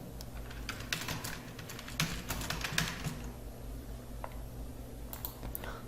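Rapid, uneven clatter of keys on a computer keyboard while an online registration form is filled in, close and fairly quiet, with bursts of quick strokes and short pauses.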